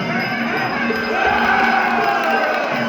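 A crowd cheers ringside at a Muay Thai bout between two elderly men, a 70-year-old and a 60-year-old. The roar is dense and continuous, full of overlapping shouts for the whole stretch.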